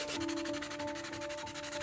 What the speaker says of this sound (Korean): 스틱 사포를 이용하여 한 번 더 표면을 부드럽게 다듬어줍니다.